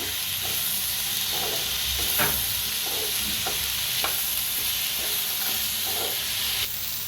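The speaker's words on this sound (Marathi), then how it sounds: "मिरच्या आणि काजू सगळं भाजून घेऊया चांगलं असं" Green chillies and cashews roasting in a pan with a steady hissing sizzle, punctuated by occasional scraping strokes of a spatula, close and continuous with no talking.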